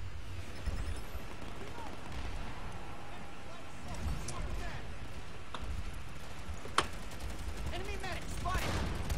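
Gunfire in Planetside 2, a battlefield shooter game, with scattered and overlapping shots, some distant and some closer, plus one sharp loud crack, over a busy background of combat noise and voices talking.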